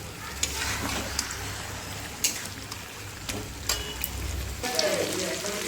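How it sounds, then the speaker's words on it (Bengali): Fried chicken and potatoes being stirred together in a pan, with a steady sizzle and scattered sharp scraping clicks of the spoon at irregular intervals, close and moderately loud with no talking. "এই দুটো দিয়ে ভালো করে মিক্স করে নেবো"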